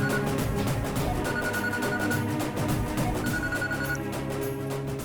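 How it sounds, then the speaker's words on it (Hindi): A telephone rings steadily through a scene from a dubbed South Indian film, its repeated electronic tone sitting over a dense background of music and ambience with no talk. "दीदी, जीजू का फोन है।"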